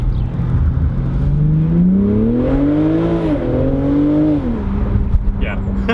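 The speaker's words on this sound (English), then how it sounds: "I always listen to the exhaust" A 2019 BMW Z4 M40i exhaust while driving, its engine note rising and falling steadily as the car accelerates, heard loud and close from inside.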